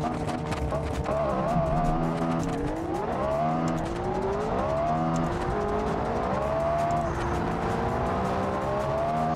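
Race car engine in BeamNG.Drive screaming through rising and falling revs, with tire squeal and skidding woven through a loud, continuous run.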